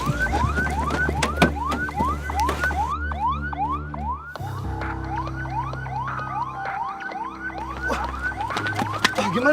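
A wailing ambulance siren sweeps up and down repeatedly in a fast, steady cycle, loud and close, with a lower horn-like tone shifting underneath and no voices.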